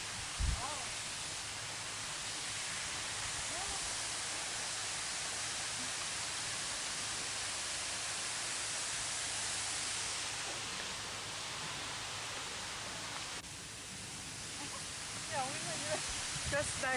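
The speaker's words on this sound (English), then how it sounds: "From here, it seems to be a larger waterfall compared to waterfall number 3." A large waterfall in Jeju in spring gives a steady, broad hiss of falling water from a middle distance, continuous and even, with faint voices underneath.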